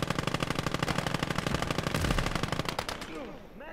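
Rapid machine gun fire in the WWII strategy game Gates of Hell, a loud continuous burst of closely spaced shots that ends in a ringing, echoing tail.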